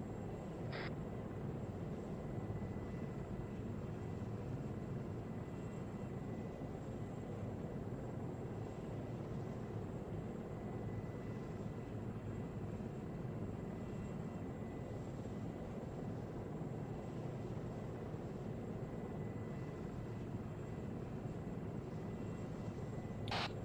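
Helicopter gunship in flight in Arma 3: a steady, even engine and rotor drone that holds at a constant low level from start to end, with no talk.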